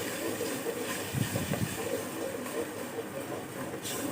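Tomatoes fry with whole masoor lentils in a pan, giving a steady, soft hiss with faint stirring scrapes partway through.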